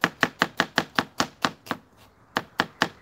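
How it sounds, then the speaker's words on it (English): A knife chops onions lengthways on a board in quick, even strikes, about a dozen crisp close taps with a brief pause before the rhythm resumes. "so I'm just going to go lengthways with the onions."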